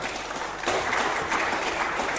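Applause from a live-stream audience swells in abruptly after a quieter opening, becoming a dense, loud clatter of clapping that holds through the remaining second and a half.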